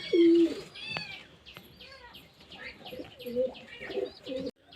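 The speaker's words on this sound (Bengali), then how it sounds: "এই বাচ্চা পায়রাগুলোকে ছেড়ে দেবো" Several young pigeons cooing in soft, repeated low calls, close by, mixed with light chirps and rustling, as they are let out of a home loft.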